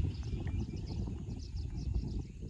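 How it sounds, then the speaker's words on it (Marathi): Birds sing outdoors in a village: faint, repeated high chirps sit over a heavier low rumble of background noise, with no talking. "1 मिनिट शांत ठेवा आणि ऐका फक्त पक्ष्यांचा आवाज"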